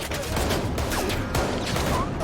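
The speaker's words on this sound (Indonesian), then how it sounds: "Tiba-tiba terdengar suara tembakan dari lantai atas." A burst of rapid gunfire crackles through a dense, noisy action scene in the film Hunt (2022), with sharp cracks repeating over a constant loud rumble.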